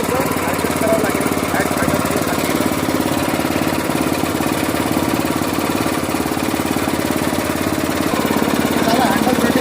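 A power weeder's engine running continuously up close, a loud, even, rattling mechanical drone with no pauses throughout.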